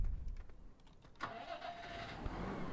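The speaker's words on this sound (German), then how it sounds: "dann müssen wir den Trecker wegfahren mit dem Anhänger" Tractor engine cranking and catching in the Farming Simulator 17 video game, a short starter burst followed by a steady idle close by.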